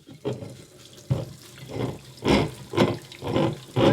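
Hot tap water runs in bursts onto a cut in glass being broken by alternating hot and cold water, with several surges of splashing flow close by and no talk.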